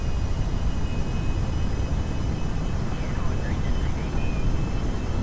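An aircraft engine at quarter throttle in the Kerbal Space Program video game gives a steady, broad roar throughout, loud and unbroken.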